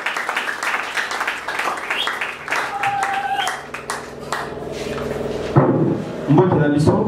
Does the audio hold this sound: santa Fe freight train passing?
no